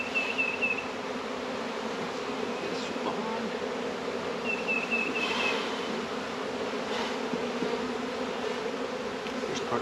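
Bees swarm around a beehive in a vineyard bee yard, giving a dense, steady buzz close by, with individual bees occasionally zipping past the listener.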